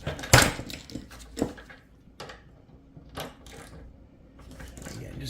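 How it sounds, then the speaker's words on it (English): A ratchet wrench with a 20 millimeter socket turns a bolt on a portable 8000 lb car and truck lift, giving a few short, close clicking bursts separated by pauses. "I'm going to put my socket on there."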